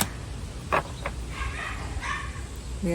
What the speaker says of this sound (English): these neighbors have the tendency to leave their dogs out the whole day or something. Because I hear them